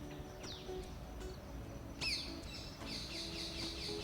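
Birds chirping in tall green woods, with a few clear tweets and calls, including a louder burst midway and repeated chirps toward the end, over quiet background.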